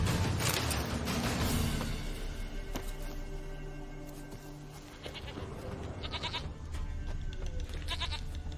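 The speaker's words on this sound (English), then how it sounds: "Wait, no, that's a sheep sound." Goat bleating in The Witcher 3 Wild Hunt video game, a few short nasal bleats rising out of a steady game ambience, moderately faint and fairly distant, with no talking over them.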